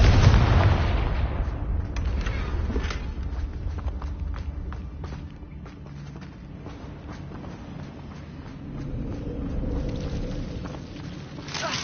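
In the Hogwarts Legacy video game, the Confringo blasting spell erupts in a loud opening boom, then dull rumbling thuds and scattered bangs carry through a low continuous roar.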